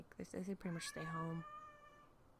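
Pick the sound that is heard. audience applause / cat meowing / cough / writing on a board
cat meowing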